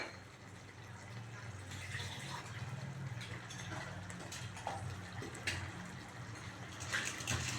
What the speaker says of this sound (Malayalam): ഈ മിക്സി നന്നായി കഴുകിയിട്ട് ഞാൻ കുറച്ച് വെള്ളം കൂടി ഒഴിച്ചിട്ട്